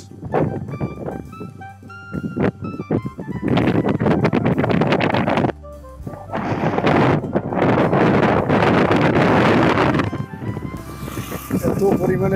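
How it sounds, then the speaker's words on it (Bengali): Strong wind blows across a bridge at dusk, gusting loudly and buffeting the microphone in long roaring bursts while people talk over it. "এত পরিমাণের বাতাস।"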